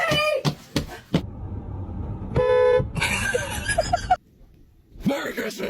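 A loud, sustained air horn blast cuts in sharply during a scare prank, set among bursts of shouting and laughter with a steady tonal blare lasting about a second.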